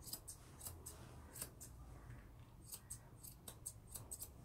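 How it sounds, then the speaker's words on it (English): Large grooming scissors trimming the eyebrow hair of a West Highland White Terrier, a series of quiet, close, crisp snips at an uneven pace, about a dozen short cuts with soft rustling between them. "So I scissor from outside corner of eye over to outside corner of eye. I use my big scissors to do this."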